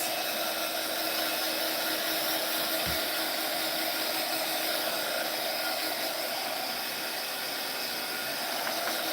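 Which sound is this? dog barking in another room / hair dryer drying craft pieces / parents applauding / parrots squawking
hair dryer drying craft pieces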